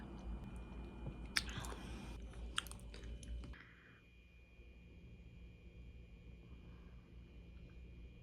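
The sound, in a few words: person chewing a hospital meal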